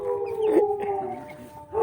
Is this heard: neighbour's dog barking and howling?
yes